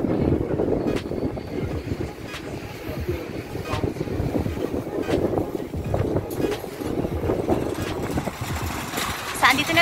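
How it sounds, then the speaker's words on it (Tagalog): Gusty wind buffets the microphone in uneven bursts and rumbles, loud and close, with no clear pauses throughout. "Grabe mahangin."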